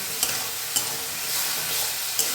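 Potatoes frying in a pan for a white no-onion aloo dum are stirred, with a steady soft sizzle and a few sharper spoon scrapes against the pan. Close and fairly quiet, with no talking.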